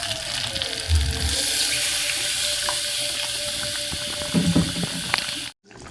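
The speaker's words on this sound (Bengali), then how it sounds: "এখন আমি জল দিয়ে দেবো।" Water is poured into a pan of sizzling posto cooked with egg and eggplant. A steady splash and hiss runs for about five seconds over the frying, then cuts off sharply.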